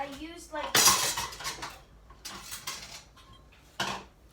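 A frying pan being grabbed from among pots and pans, with a loud metallic clatter and rattling of cookware up close, followed by lighter clinks and a final sharp clang, with a voice briefly heard at the start.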